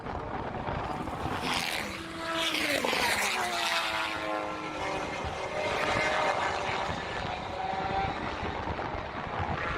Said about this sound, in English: These cars are entering Maggots and Beckett's at what? 180, 190 probably?